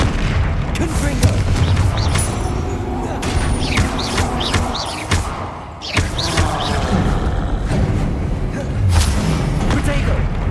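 Confringo blasting spells and explosions in a Hogwarts Legacy battle on Xbox Series X, with repeated booming impacts and crackling bursts over a dense, loud game soundscape, with speech mixed in.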